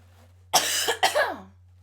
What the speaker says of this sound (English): Man, I wish I could say this cough was from smoking weed,